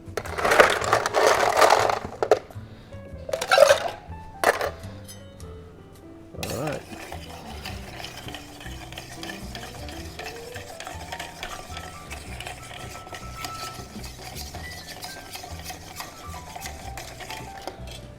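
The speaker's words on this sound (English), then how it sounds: "Then we're going to stir it down." A Martinez cocktail made with Luxardo and Angostura bitters is stirred down with ice in a mixing glass. A few sharp clinks and rattles open the stir, then a steady, softer swirl of ice continues at close range without talk.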